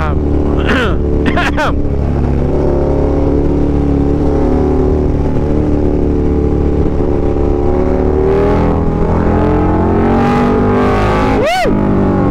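A KTM Superduke 1290R motorcycle accelerates hard across a bridge, its loud engine roar close and continuous with rising revs. Wind noise runs throughout, and a rider's voice is heard briefly.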